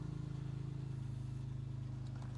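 A car idles through an aftermarket, non-stock muffler with non-stock exhaust tips, giving a steady, deep, rumbling drone with an even pulse that stays loud and close the whole time, with no talking over it.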